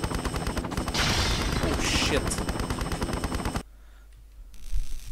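Helicopter in Tomb Raider Chronicles, a loud rhythmic rotor chop layered with rapid gunfire bursts that cuts off abruptly to near quiet, with a brief exclamation from a voice.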